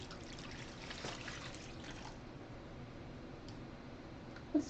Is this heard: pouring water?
yes